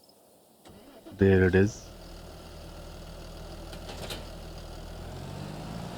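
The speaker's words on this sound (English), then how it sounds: "I'll jump back on the Fendt tractor" Fendt tractor engine in a farming simulation, cranking briefly and catching loudly, then settling into a steady low idle that runs on under a short spoken remark.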